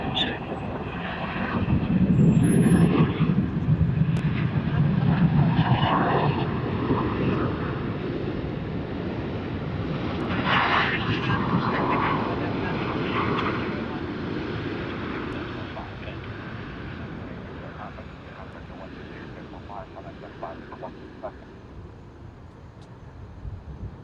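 A Boeing 737 departing at Sydney Airport gives a broad, steady jet roar that swells and slowly fades, heard from a distance, with occasional radio voices over it.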